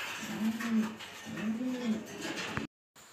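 A racing pigeon hen in a loft gives two deep, rolling coos close by, one after the other, followed by a brief cutoff into silence.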